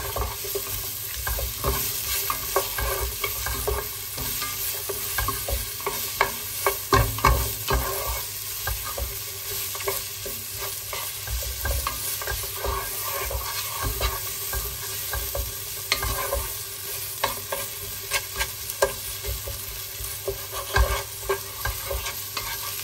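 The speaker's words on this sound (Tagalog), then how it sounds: "Then maglagay ng cinnamon stick and star anise. Beef cubes. Then haluin." Beef cubes frying in a pan with cinnamon stick and star anise, giving a steady soft sizzle with irregular scraping stirs running throughout, fairly quiet and close, with no talking.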